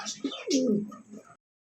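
A single short, close pigeon coo, a soft throaty warble lasting about a second, then silence.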